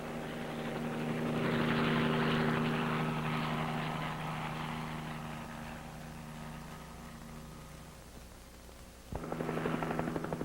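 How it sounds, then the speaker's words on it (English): A Marine helicopter paying out telephone wire over rough terrain gives a steady, droning rotor and engine hum that swells, slowly fades, then returns with a sharp burst near the end. "the helicopter heads for the other end of the line, paying out wire swiftly over terrain no other vehicle could cover"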